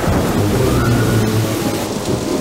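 Cartoon rainstorm with a steady wash of rain and low thunder rumbling underneath, loud and continuous throughout.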